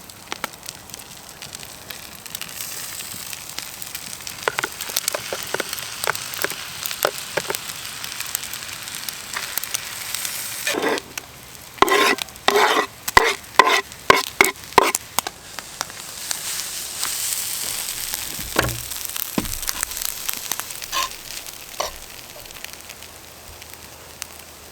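Rice being cooked and stirred in a pan inside a van, soft sizzling with bursts of quick scraping and tapping strokes from a utensil, louder in the middle, and no talking.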